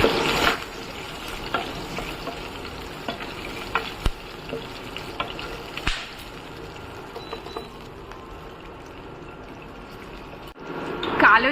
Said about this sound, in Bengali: এবার একটু মাছ ভাজার তেলটাতেই আমি কালো জিরে আর কাঁচা লঙ্কা ফোড়ন দেবো।